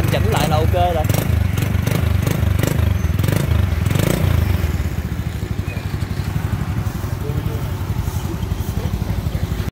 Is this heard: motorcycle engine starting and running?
yes